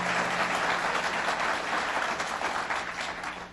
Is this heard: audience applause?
yes